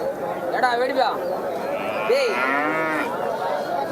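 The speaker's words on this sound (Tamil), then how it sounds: "சிந்தாமணி குட்டிங்க ஒரு பெரிய மாடுங்க" Cattle at a livestock market where bulls and calves are sold, several moos rising and falling close by amid a background of crowd chatter and voices.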